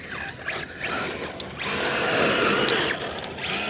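An MJX 7304 RC car's electric motor whines as it drifts in cold weather outdoors, its pitch rising and falling with throttle jabs, fairly loud and close with no talk.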